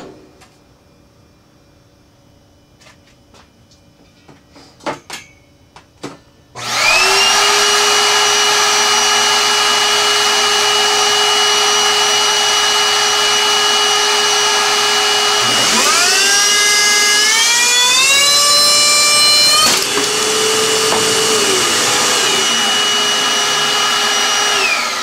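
A PC power supply fan is overspeeded to the point of failure, first with faint clicks and then a sudden loud, steady whirring whine. The whine rises sharply in pitch partway through, then drops back.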